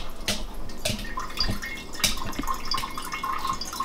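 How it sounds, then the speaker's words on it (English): Tap water running into a pot beside a coffee grinder, a close steady splashing stream with scattered drips and bright plinks throughout. "we got the pot, got the water filling up"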